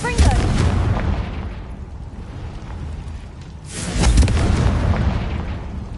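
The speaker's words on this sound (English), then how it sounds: "Confringo." Confringo fire spell explosions in Hogwarts Legacy, two loud booming blasts with a rumbling tail between them, close and full, with some game dialogue mixed in.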